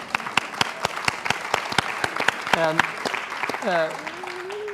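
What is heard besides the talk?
audience applause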